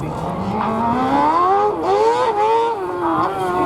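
Race car engine at the Lessay slalom, revving hard and rising in pitch with a strong, buzzing harmonic whine, dipping briefly between gear changes, loud and close throughout.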